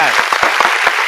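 Applause sound effect dropped into a talk radio show, a burst of crowd clapping that runs loudly for about a second, with sharp individual claps standing out over a dense wash.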